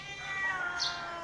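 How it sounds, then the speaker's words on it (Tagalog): A cat gives a single drawn-out meow nearby, fairly soft and alone in a quiet house setting. "Kita niyo yung pusa."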